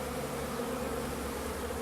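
Honeybees buzzing around a beehive, a dense, continuous drone close by that holds steady throughout with no voices.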